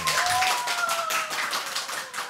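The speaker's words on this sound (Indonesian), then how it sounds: "tepuk tangan dulu dong. Tepuk tangan." A group of people clapping their hands at the start of a podcast, brisk dense claps with a few tapping hits and light voices underneath.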